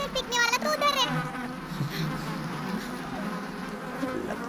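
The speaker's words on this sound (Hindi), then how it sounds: "मधुमक्खियों ने हमारी तरफ U-टर्न ले लिया।" A swarm of bees buzzing in a dense, continuous drone, loud at the start with a brief rising whine, then a steady hum under faint background voices in a film chase scene.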